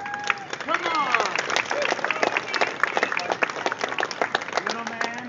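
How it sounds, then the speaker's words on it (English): An outdoor crowd claps for a street performer escaping chains and a straitjacket, a lively, uneven scatter of hand claps close by, mixed with chatter and shouts from onlookers. "Everybody just clap."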